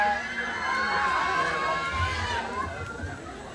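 Pride pageant audience cheering and shouting during the national costume segment, a dense continuous wash of voices and whoops at steady loudness, with no distinct claps.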